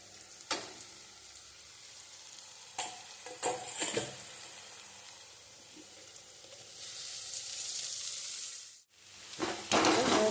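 Crushed ginger, garlic and green chilli for chickpea curry are stirred in a pan, with scraping stirs and bursts of sizzling that swell into a loud, steady fry near the end.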